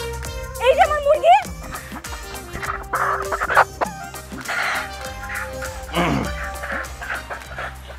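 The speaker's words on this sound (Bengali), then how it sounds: "এই যে আমার মুরগি" A hen clucks in a household scene, starting with a quick series of loud clucks and then softer scattered calls, mixed with voices, a dog-like bark and other room sounds.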